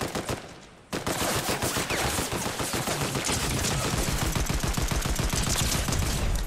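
Heavy sustained automatic gunfire erupts in a video game after a brief quieter moment, loud and dense, with rapid overlapping shots continuing without pause.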